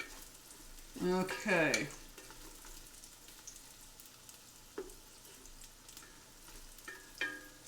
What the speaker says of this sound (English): Let's leave this for a few minutes more to sear